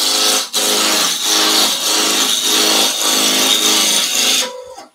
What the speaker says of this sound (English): Making sure everything misses the tool rest before you turn the lathe on